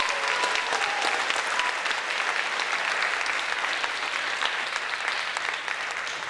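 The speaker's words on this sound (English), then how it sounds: "Let's have another round of applause for that stellar performance" Audience applause in an auditorium after an Arangetram stage performance, a dense, steady wash of many hands clapping that fills the whole stretch at full strength, with a faint tone briefly audible early on.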